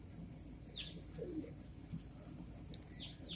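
Soft coos and faint chirps of small, slender Kasni pigeons sound intermittently over a quiet background, with a brief flutter of wings.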